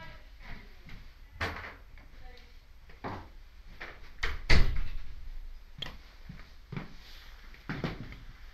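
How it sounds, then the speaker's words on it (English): An indoor door is pushed shut in a quiet hall or church space, giving a single firm thud near the middle amid a few lighter knocks and shuffles, with no talk over it. "I'll just shut this door because of the noise."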